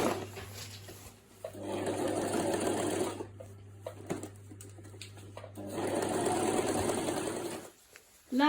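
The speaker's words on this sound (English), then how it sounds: "Now I'm sewing it together." A sewing machine stitching a circle dress runs in two long bursts of rapid mechanical whirring, separated by a short pause with light handling noises, close and fairly loud.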